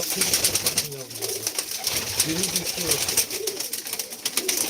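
Pigeons belonging to an old man, due to be sold at auction, coo in soft low repeated calls close by, while people talk nearby over a constant hiss of background noise.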